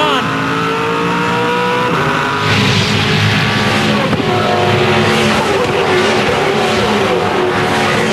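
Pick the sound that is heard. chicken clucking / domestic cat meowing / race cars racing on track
race cars racing on track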